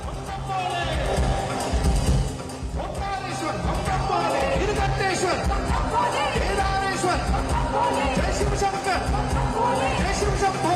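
A massive crowd at a devotional concert in Prayagraj roars with a dense, continuous wash of cheering and babble, loud and unbroken over roughly ten seconds.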